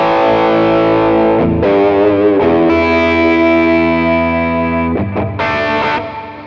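A heavily distorted electric guitar through a LEKATO Tank-G effects processor pedal with gain raised rings out sustained, gritty chords, changing a few times before the last one trails off.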